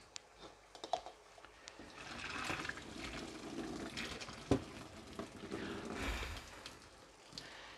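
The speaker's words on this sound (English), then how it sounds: "we're going to drain the pasta while that's cooking" Cooked pasta water is drained out of a pot in a home kitchen, a steady pouring gush with splashing that swells and fades over several seconds, fairly quiet with a few clinks of the pot.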